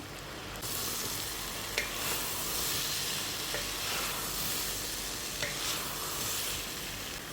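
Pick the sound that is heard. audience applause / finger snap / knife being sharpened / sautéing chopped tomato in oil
sautéing chopped tomato in oil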